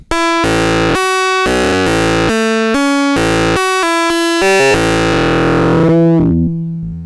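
Loud, buzzy distorted synth notes from the Future Sound Systems Timbral Sculptor timbre circuit step through a rhythmic melodic sequence, then sweep into a gritty, decaying tail.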